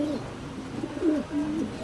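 A racing pigeon coos in a loft, a few soft throaty rolling coos close by, rising and falling over a quiet background.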